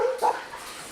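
A year-old mixed pit bull gives a brief, high whimpering yelp, close and clear, fading within a second.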